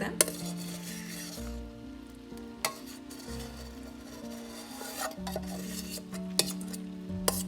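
Eggs cook in a greased, shallow dish with a steady low sizzle, broken by scattered clinks and scrapes of a utensil against the dish over a constant tonal background hum.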